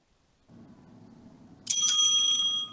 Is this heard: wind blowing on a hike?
no